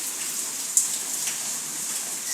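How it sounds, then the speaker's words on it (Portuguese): Constant heavy rain with a bright hiss, one sharp drop or splash standing out early on. "Eita, quanta chuva."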